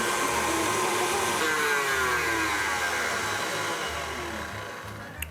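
An electric mixer whips egg whites for a gluten-free, dairy-free vanilla cake, giving a steady, loud motor whir that holds throughout and eases slightly toward the end.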